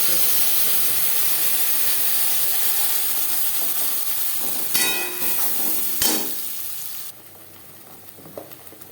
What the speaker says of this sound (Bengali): মাছ ভেজে নেওয়ার তেলে দিয়ে দেবো মশলা